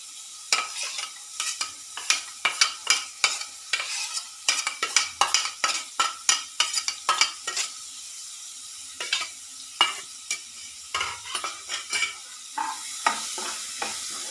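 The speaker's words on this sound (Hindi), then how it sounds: "और अब हम डालेंगे 2 ओनियन बारीक कटे हुए और उनको हम सॉटे कर लेंगे" Finely chopped onions sauté in a pan for dal makhani, a steady sizzle broken by a rapid run of sharp spoon scrapes and stirring clatters, loud and close, with no voices.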